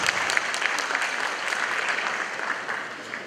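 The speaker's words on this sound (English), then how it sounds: "A round of applause for" Sustained audience clapping fills a hall at the Supreme Court's 150th anniversary lecture at Manhyia Palace, an even, moderately loud applause holding steady throughout.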